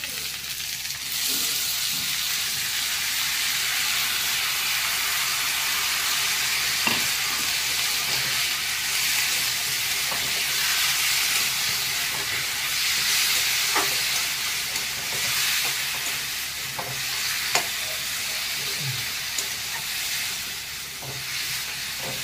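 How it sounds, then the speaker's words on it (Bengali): Potatoes fry with onion and garlic paste in a pan, a steady broad sizzle with scattered scrapes and clinks of stirring running throughout, close and fairly loud, with no talk over it. "ভাজবো একদম।"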